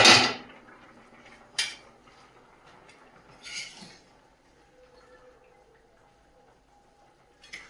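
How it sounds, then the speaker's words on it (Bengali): A metal lid lifted off a cooking pot with a sharp clank at the start, followed by a few softer knocks and scrapes of cookware, then quiet bubbling in the background; close and moderately loud. "ঢাকনাটা খুলে দেখে নেবো"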